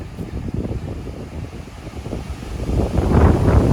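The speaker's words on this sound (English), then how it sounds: "Watch when the wind comes up." Wind gusting on the Appalachian Trail, a loud rushing roar buffeting the microphone in uneven surges that build stronger toward the end, close and continuous with no talk.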